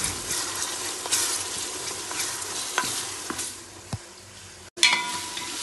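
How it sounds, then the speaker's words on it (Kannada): Garlic paste sizzles in hot oil with whole spices in a pan for biryani, a steady close frying hiss broken by scraping stirs and a few sharper spoon knocks. "ಈಗ ಅಂಕಲ್ಲು ಬೆಳ್ಳುಳ್ಳಿ ಪೇಸ್ಟ್ ಹಾಕಿದ್ದಾರೆ ಅದು ಸ್ವಲ್ಪ ಫ್ರೈ ಆಗಬೇಕು ಚೆನ್ನಾಗಿ ಫ್ರೈ ಮಾಡ್ತಾರೆ"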